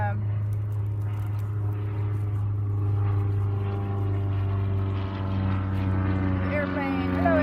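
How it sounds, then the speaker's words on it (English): A small airplane drones overhead above a spring garden with catkins and grass, its steady low engine hum and harmonics holding throughout; a voice speaks briefly near the end. "Airplane, hello airplane."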